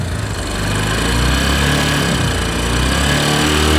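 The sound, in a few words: buzzing noise from old Discover 135 motorcycle engine head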